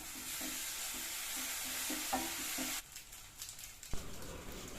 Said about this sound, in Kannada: ಇದನ್ನು ಜಸ್ಟ್ ಸ್ಟಿರ್ ಮಾಡಿ ಸ್ವಲ್ಪ ಗಟ್ಟಿಯಾಗಲಿ ಅದು.